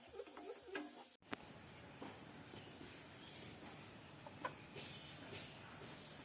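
Two chickens newly brought home from the market, tied up, clucking faintly at a distance in a quiet setting.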